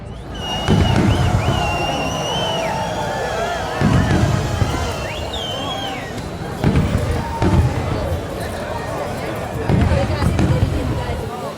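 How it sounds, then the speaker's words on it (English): A nighttime fireworks display sends out several loud booming bursts at irregular intervals, with whistling rockets trailing in between and a murmuring crowd in the background. "at night, there are usually fireworks displays in most every city and town in America"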